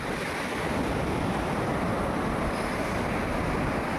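A steady roar of sea surf and rushing water at a river outlet fills the scene, mixed with wind buffeting the microphone, continuous and fairly loud.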